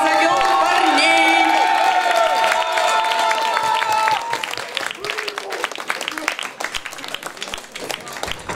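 A club audience at a Moscow concert applauds and cheers, starting with a burst of whoops and shouts under loud music, then settling into dense, steady clapping from a large crowd nearby.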